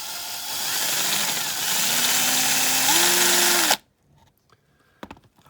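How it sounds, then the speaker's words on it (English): A power drill bores out a rivet on a Matchbox Speedkings K24 Lamborghini Miura die-cast car, a close, loud, steady whine that climbs in pitch for nearly four seconds, then cuts off to faint handling clicks. "I'm just gonna put the drill on that."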